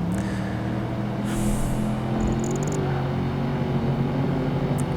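An old Porsche drives in the racing game PGR2, its engine a steady droning hum with a slight rise in pitch, plus brief electronic tones and a whoosh over the top.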